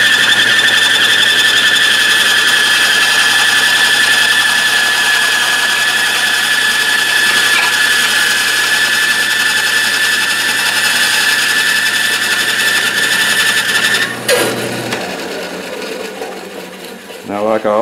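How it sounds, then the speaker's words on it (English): A bandsaw fitted with a skip tooth blade cuts steadily through a wood block over six inches thick, giving a loud, sustained high whine that holds for about fourteen seconds before the cut ends and the saw winds down. "the skip tooth blade, this thing, you're seeing how easy it cuts through this over six inches here."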